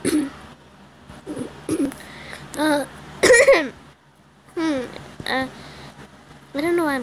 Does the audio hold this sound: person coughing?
yes